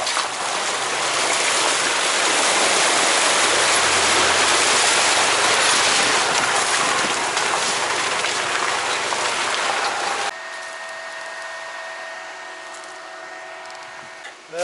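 Mountain river in Chechnya rushing loudly and steadily, a dense broadband roar of flowing water close by for about ten seconds before it cuts to a quieter scene with engine-like hum.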